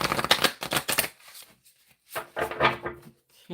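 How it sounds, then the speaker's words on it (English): Tarot cards are shuffled by hand in quick riffling bursts, a run of rapid papery flutters followed by a pause and a second shorter round, close and fairly quiet. "shuffle the cards."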